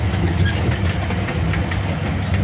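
A train, called a bullet train, runs slowly on a holiday outing in Daman, giving a continuous close rumble with a faint rhythmic clatter of wheels on rails.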